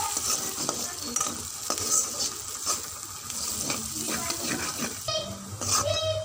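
Onions and green chillies sizzle and crackle as they fry in a pan for a spiced potato-and-yogurt curry, with steady stirring and scraping throughout and a few running-water sounds near the end.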